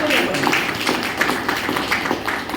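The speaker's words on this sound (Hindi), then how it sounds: "इसे जोरदार तालियां" Audience applause at a talk by senior leader R.C. Yadav on the MLM industry, a steady dense patter of many hands clapping that fills the room for a few seconds.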